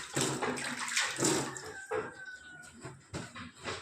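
Water runs and splashes close by as hands are washed, with faint chicken clucking in the background.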